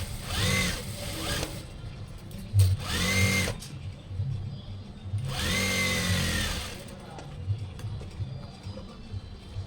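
A sewing machine stitches a doctor's coat in three distinct motor-driven bursts of rapid whirring needle runs, each lasting about a second or more, separated by quieter pauses with faint background noise.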